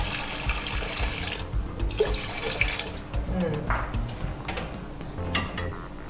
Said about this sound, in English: Add some water into it.